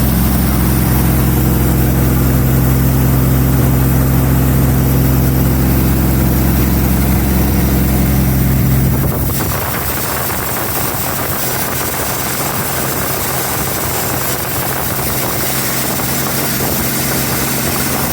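A 1933 Auburn V12 boat tail Speedster, started for the first time after 58 years in a museum, runs with a loud, steady, throbbing drone close by. About halfway through it settles into a smoother, lower idle.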